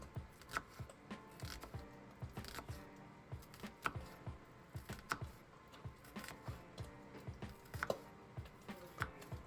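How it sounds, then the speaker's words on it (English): A knife cuts through an onion on a board, a quiet, close series of crisp chopping taps at an uneven, steady pace with brief pauses between strokes. "Cut most of the way, but not all of the way through the end of the onion"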